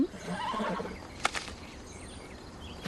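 A horse gives a short, wavering neigh at a moderate distance, followed by a brief sharp clatter.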